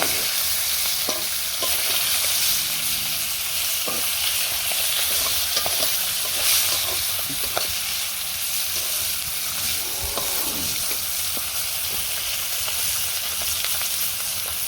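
Pangas fish fries in a pan over a village clay stove, giving a steady bright sizzle with scattered pops and occasional clinks of a utensil, close and even throughout, with no voices.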